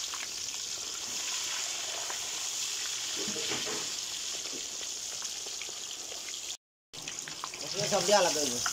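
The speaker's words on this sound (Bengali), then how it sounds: "আমরা মাছ দিয়ে দিলাম, মাছটা ভালো করে 2 সাইড ভালো করে ভাজার পর তারপর আমরা উঠাবো।" Pieces of catla fish fry in hot oil with a continuous soft sizzle and occasional crackle, close and moderately quiet, briefly cut off before resuming.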